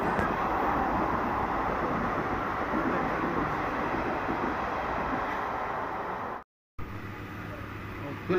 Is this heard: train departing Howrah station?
yes